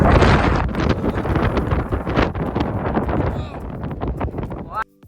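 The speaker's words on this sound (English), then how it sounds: "It was so windy up at the top" Strong wind buffets the microphone at the summit of Mount Baldy, the highest point in Los Angeles, a loud continuous roar that gusts and eases before dropping off abruptly near the end.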